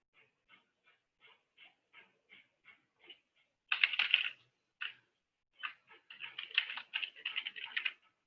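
Keys tap on a computer keyboard as firewall certificate details are filled in, starting with single spaced keystrokes and then quicker clustered typing, close and fairly quiet.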